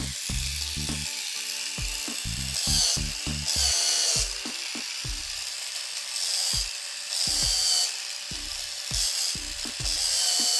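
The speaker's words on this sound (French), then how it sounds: "l'embout vert va venir m'aider à poncer l'ongle, mais il faut aller très vite" An electric nail file with a green bit sands a fingernail in short bursts, its motor whirring up and cutting off repeatedly between dry grinding passes, close and fairly loud.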